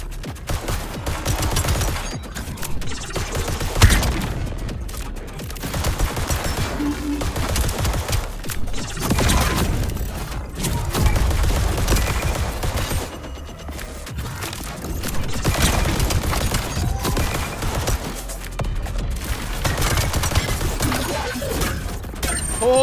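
Dense video game gunfire with ordinary bullets, loud bursts of rapid shots and clattering impacts repeating without pause over a steady roar of battle.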